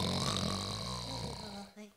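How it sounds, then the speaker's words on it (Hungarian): Loud snoring fills a small room in a Hungarian children's story, a steady, heavy rasp that carries on for most of the moment before cutting off abruptly near the end. "Nem sokára harsány horkolás zengett a kis szobában."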